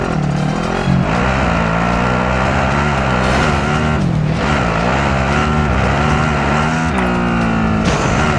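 A vehicle drives in Call of Duty Modern Warfare, its engine droning loudly and steadily throughout with rising and falling pitch as it speeds along, close and continuous.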